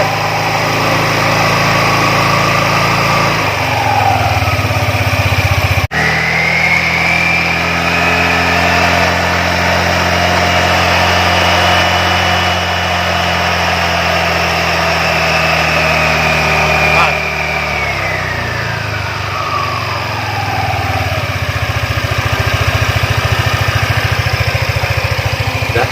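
A Yamaha Lexi scooter engine, its CVT open for servicing, revs up in a long rising and falling throttle sweep over a steady idle, loud and close, while people talk now and then.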